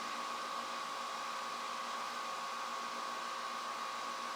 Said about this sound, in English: I experimented with going this way with that scrubby wheel.